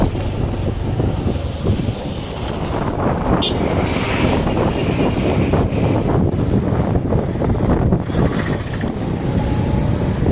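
Thamirabarani river floodwater near Aathur, a loud, steady broadband rush and roar that holds constantly throughout, heavily buffeted by wind noise on the microphone.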